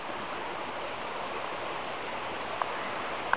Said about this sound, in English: Go ahead and fill your bottle up